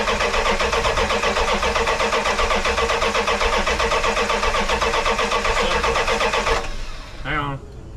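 A 1984 Dodge D100 big block being cranked, a loud rapid rhythmic starter churn that runs steadily for several seconds, then stops abruptly as the engine tries to catch, with people speaking nearby.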